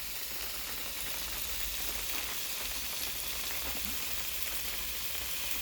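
Turmeric, coriander and garam masala powders sauté in hot oil for a beef liver pepper fry, giving a constant close, hissing sizzle with no pauses and no voices.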